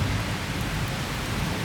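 Heavy rain falling in a thunderstorm, a dense, steady hiss with a low rumble underneath, continuous and fairly loud throughout.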